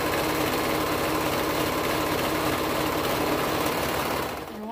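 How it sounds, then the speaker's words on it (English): A serger runs steadily as it sews a curved sleeve seam on a toddler hoodie, its fabric folded right sides together, a dense continuous mechanical whir close by that holds for several seconds and then slows toward the end. "You just do a serge curve."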